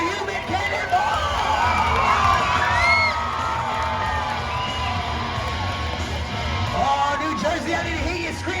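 A large crowd at a monster truck show cheers, whoops and screams continuously, with children shouting among a dense babble, the roar staying loud and steady throughout.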